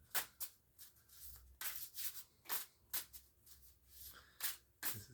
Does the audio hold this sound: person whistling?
no